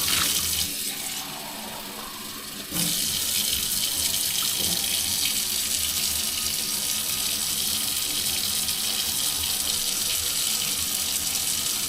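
Cold tap water in Reykjavík running steadily from a faucet into a glass, a loud continuous splashing hiss, briefly quieter at first and then a bit fuller.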